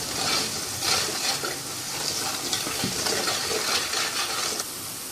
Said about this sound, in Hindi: स्पाइसेस ऐड करने के बाद भी इसको अच्छे से मिक्स कर लें।